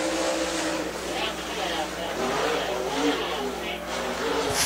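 A super late model race car from Capital Chassis laps Dixie Speedway, its engine holding a steady loud drone throughout while a commentator talks over it.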